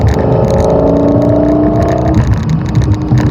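A high-revving sports car engine screams loudly and steadily up toward 9,000 RPM, a sustained, close, rising roar that fills the whole moment before easing slightly near the end.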